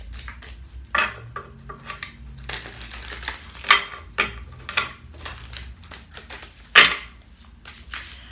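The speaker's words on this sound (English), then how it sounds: "I'm just shuffling them." A deck of tarot cards being shuffled by hand, with crisp riffling bursts and soft slides repeating in uneven rhythm, close and fairly loud, with no talking.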